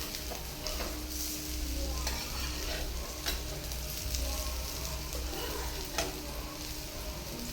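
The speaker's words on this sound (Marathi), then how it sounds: "तळून घ्यायच्या असे एकदम फ्राय तुम्ही तेलात पण जास्त तेलात पण तळल्या तरी काही नाही" Palak vadi frying in oil over a low gas flame, a steady close sizzle and crackle running throughout, with occasional utensil scrapes as the pieces are turned; no voices.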